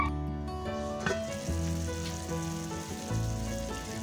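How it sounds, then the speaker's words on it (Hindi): Fenugreek leaves with potatoes frying in a spiced masala, giving a soft, faint sizzle with a few gentle stirring knocks, heard close and without any voices. "मेथी को भी हम मसाले में अच्छी तरह से भून लेंगे।"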